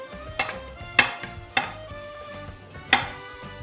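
Garlic cut into large pieces and green onions frying together in a pan, with a steady low sizzle and four sharp utensil scrapes and clinks against the pan while stirring.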